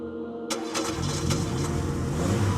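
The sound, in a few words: car engine starting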